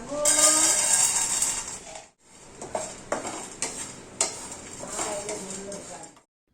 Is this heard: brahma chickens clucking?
no